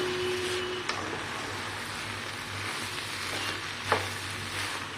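Rice being stirred and mixed in a pot with melted ghee for a small homemade biryani-style dish, giving a steady soft scraping and sizzling texture throughout, with a couple of brief clinks of the utensil.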